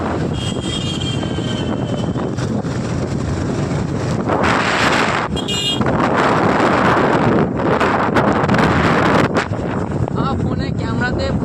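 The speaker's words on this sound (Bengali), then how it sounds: "এখন ঠান্ডা হাওয়া চলছে" Cold wind blowing outdoors beside a stadium near a helipad, strong gusty roar buffeting the microphone the whole time, with a voice talking intermittently underneath.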